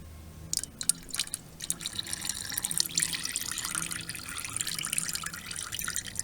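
Coolant draining from a Honda Forza 300 scooter during a coolant change, a close trickling and dripping stream of liquid, irregular at first and then steadier, heard alone.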